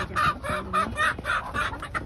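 A rooster and hen cluck nearby in a quick, repeated rhythm of short calls with no voices.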